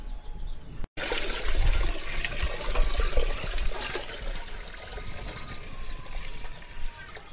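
Herbal decoction poured and mixed into a 100-litre drum of water, a steady close splashing and trickling that runs on without a break after a brief dropout.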